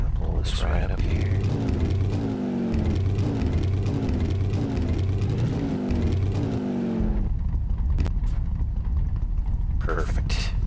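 A car engine revs repeatedly, rising and falling in pitch as it climbs through gears, loud and close, then cuts off; someone speaks briefly over it.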